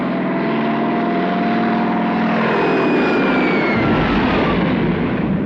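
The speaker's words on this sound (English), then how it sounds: "those takeoff shots, the planes rolling off the deck into the dawn one after another" Propeller warplanes take off from a carrier deck in a war film, a steady loud engine roar with rising whine and rushing air that swells near the end, with no voices.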